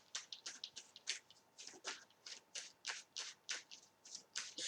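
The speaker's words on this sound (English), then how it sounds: "I want to draw some more cards on this." Tarot cards being shuffled and drawn, with a steady run of crisp riffling and flicking strokes close by and fairly quiet, with no voice over them.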